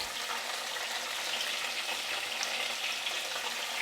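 Potatoes frying in a pan for a vegetarian Bengali aloo dum, a steady close sizzle of hot oil that stays dense and even throughout, with no voices.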